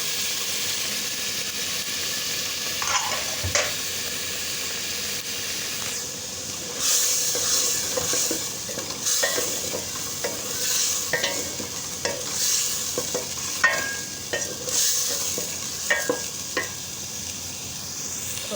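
Black chickpeas stirred and fried in a pot give a continuous close hiss and sizzle. Repeated scraping strokes of the spoon against the metal cut through it unevenly.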